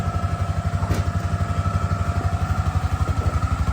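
A four-wheeler ATV engine runs steadily nearby with a rhythmic, pulsing idle throughout, loud and continuous with no talking.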